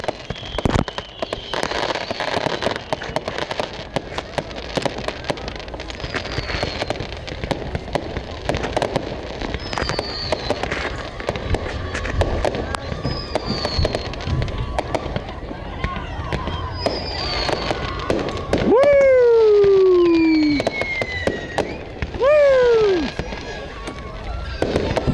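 Fireworks show at a high school football game, a continuous dense crackle of bursts heard from a distance across the whole stretch, with whistling rockets rising and falling near the end.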